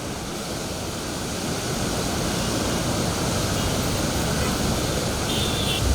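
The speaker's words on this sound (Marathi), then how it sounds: "रामकुंड आणि गोदा घाटावरील मंदिराला पुराच्या पाण्याने वेढा घातलाय" Godavari floodwater surges around the temples at Ramkund and Goda ghat in Nashik, a loud, steady, broadband roar of rushing water that continues without a break and swells slightly after the first second.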